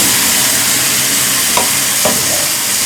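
Lentils tipped into hot oil with fried coconut for a coconut lentil dal, giving a steady loud sizzle with a couple of brief stirring scrapes, no voices.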